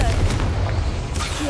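A Confringo blasting spell exploding in the Hogwarts Legacy game inside a mine, a heavy booming blast with a dense low rumble that holds steady through the short burst, with a voice speaking over it.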